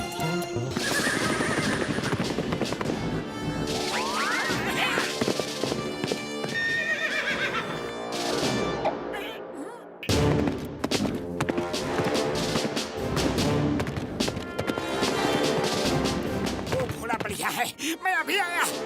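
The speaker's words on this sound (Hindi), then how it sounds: "वो देखो घोड़े" Cartoon horses whinny and neigh repeatedly over steady clip-clopping hooves, loud and busy with music and effects throughout, a brief break near the middle.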